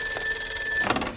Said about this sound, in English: That could be the phone.